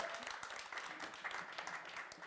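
A crowd at a car premiere event applauds for a presenter, a quiet, brief burst of clapping that stays fairly soft and distant.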